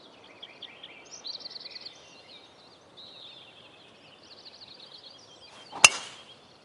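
A golf ball crashes through tree branches in a PS4 golf video game, with soft birdsong chirping throughout, then a single sharp, loud crack near the end.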